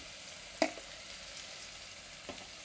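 Green chillies frying in oil in a pan for a keema curry, a soft, even sizzle throughout with one sharp clink of a utensil early on and a fainter knock near the end, no voices.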